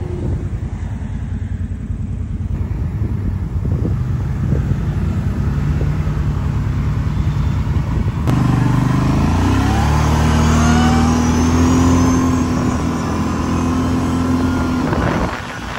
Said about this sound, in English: He's waiting on all these cars to pass by and then we're gonna go.